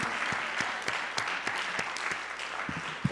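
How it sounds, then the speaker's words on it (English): A round of audience applause for Michael Ranga at a school board meeting, steady, fairly close clapping with sharp individual claps standing out throughout. "let's give it one more round of applause for Michael Ranga"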